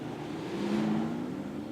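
A Dallara IR-18 IndyCar engine in the iRacing simulator at Homestead, held at a steady mid-range hum that swells slightly as the revs rise, continuous and fairly loud.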